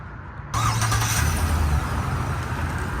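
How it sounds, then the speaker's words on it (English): A 2023 Chevrolet Silverado 2500HD pickup truck engine, started by remote start, turns over and catches, then settles into a steady low idle rumble that continues at moderate loudness with no talking. "I went ahead and just fired up the remote start so you can see that works."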